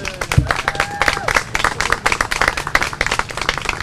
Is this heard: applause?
yes